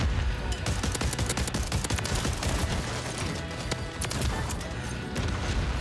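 Rapid gunfire from the Haymaker in the video game Call of Duty MW3: a dense, continuous stream of loud sharp shots and bursts, with a voice faintly mixed in.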